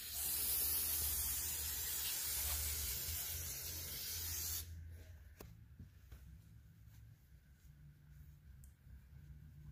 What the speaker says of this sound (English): So I'm going to spray down with brake clean and use a little microfiber rag.